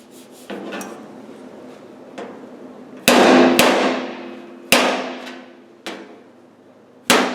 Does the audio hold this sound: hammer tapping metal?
yes